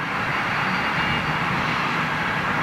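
Jet airliner engines on takeoff at Heathrow Airport give a loud, sustained roar with a steady hissing whine, constant and close, with no talking over it.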